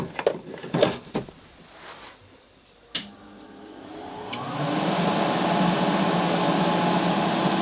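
A stick welder is switched on after a few clicks and knocks, and its cooling fan spins up into a steady, moderate hum that holds to the end.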